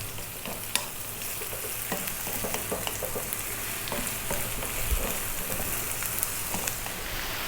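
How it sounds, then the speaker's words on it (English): Chunky meat for Ethiopian siga alicha fitfit sizzles and fries steadily in a pan, with scattered scrapes and clicks of stirring over the constant hiss, close and fairly quiet. "we're going to go for another 5 or 6 minutes, stirring fairly often"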